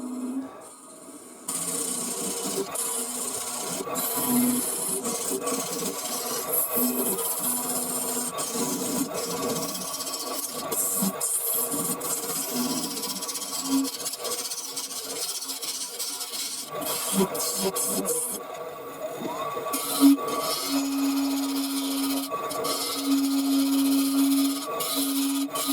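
A negative rake carbide cutter from Easy Wood Tools turns a resin and burl blank on a wood lathe, giving a steady, close scraping rasp over a low motor hum that carries on with little break.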